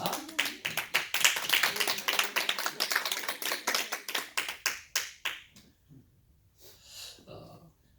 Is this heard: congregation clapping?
yes